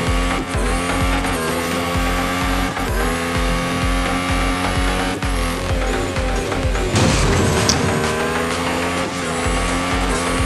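Alfa Romeo C39 Formula 1 car racing around Monaco in Real Racing 3, a loud high-revving engine climbing and dropping through gear shifts, with tire squeal and a brief burst of noise near the end.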